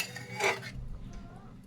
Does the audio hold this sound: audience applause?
no